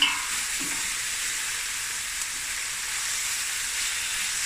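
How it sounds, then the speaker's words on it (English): Kilogram of beef frying in a pot for a three-greens stew, a steady loud sizzle with faint scraping of a stirring spoon, no talking. "now I'm going to add the 1 kilogram of beef. Here we go. Okay, it's added. Give it a stir."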